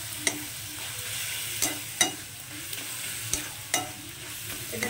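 Ground drumstick paste stir-fried in oil on low heat, a soft continuous sizzle broken by repeated sharp spatula scrapes and taps against the pan.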